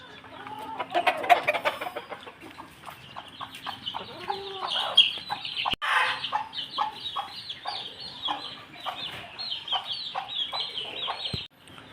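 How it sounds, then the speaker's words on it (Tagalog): Hens cluck softly with a brood of chicks peeping around them near a coop, a steady busy chatter of overlapping calls and chirps throughout, with no talking. "Ito yung mga sisiw, mga anak ng bulik mga bakal eh."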